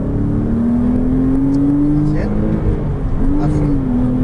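Porsche Cayman S engine pulling hard on a racing circuit, a loud steady in-car drone rising in pitch, dipping briefly at a shift, then climbing again, with an instructor's voice talking over it.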